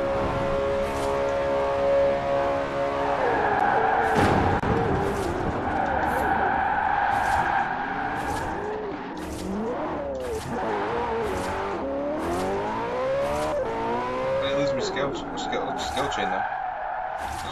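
Cars racing in Forza Horizon 4, engines roaring and shifting pitch as they accelerate, with tire skids and squeals along the way and a brief siren-like tone near the end, under continuous speech.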